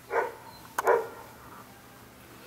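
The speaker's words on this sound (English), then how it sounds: "I think that's a dog." A dog barks twice in quick succession, a short bark followed by a louder second one, moderately near and alone against a quiet background.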